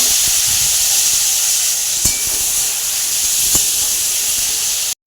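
Potato pieces hit hot oil already seasoned with cumin seeds and bay leaf, setting off a loud, steady hiss that holds evenly, with a couple of faint clicks before it stops abruptly.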